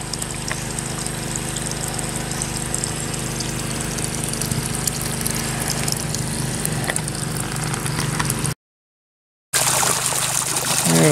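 Water drains steadily from a tilapia pit through piping outdoors, a continuous rushing trickle under a low mechanical hum, with a short drop to silence near the end.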